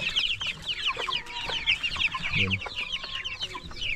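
Crowded broiler chickens cluck continuously in their cage, a dense, close chorus of overlapping calls with a brief spoken word in the middle.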